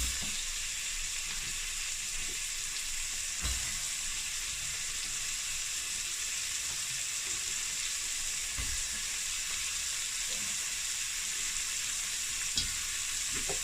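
Onions fry in butter in a pan for venison ragu, giving a steady, even sizzle throughout with a few faint stirring knocks and no talk.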